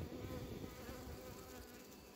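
Honeybees buzz loudly at an open hive during a colony inspection, a dense, steady drone of many wings close by with no other sound.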